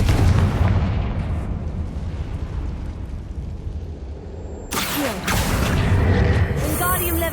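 Confringo blasting spell exploding in the Hogwarts Legacy video game, a loud sustained booming rumble with a sharper burst partway through, heard alone.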